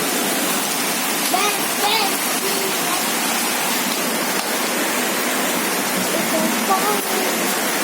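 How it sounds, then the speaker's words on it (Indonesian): Heavy rain pours down in a dense, steady roar that fills the whole stretch without a break. Faint voices are barely audible beneath the downpour. "Hujannya deras banget."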